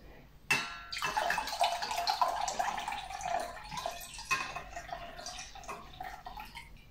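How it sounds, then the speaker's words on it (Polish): Leftover milk pours into a small pot for a pudding filling. A sudden onset gives way to a continuous liquid stream and splashing, fairly quiet, with faint drips and soft kitchen noise near the end. "Następnie przelewamy do garnuszka mleko, które nam zostało z tych 560"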